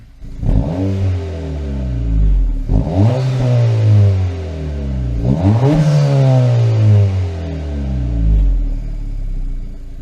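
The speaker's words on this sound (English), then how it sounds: "Sounds pretty good, but let me rev it up a little bit." A 2025 Honda Civic Si engine, fully warmed up, revs loudly three times. Each rev climbs and then falls back to a steady idle between the pulls, with no talking.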